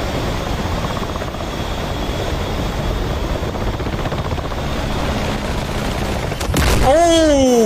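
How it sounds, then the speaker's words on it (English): Helicopter in a war video game, a steady rotor drone and rumble that runs loud and continuous, then a sudden burst near the end with descending whining tones as it crashes. "There was a helicopter crashing into him"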